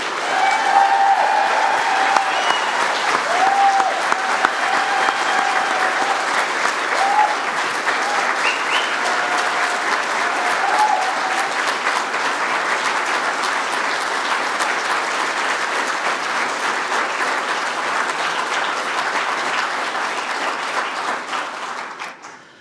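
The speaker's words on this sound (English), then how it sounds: "could I ask all of our graduates to give your family, friends and supporters a huge round of applause" Sustained, dense applause from a large audience at a university degree ceremony in Dublin, honouring graduates' families, friends and supporters, loud and steady for about twenty seconds before tapering off at the end.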